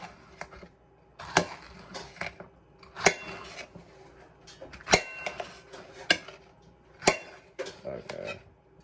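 A knife chops diced zucchini on a cutting board for a beef lasagna, giving sharp, irregular knocks roughly every second with quieter taps in between. The sounds are close and moderately loud, with faint talk in the background.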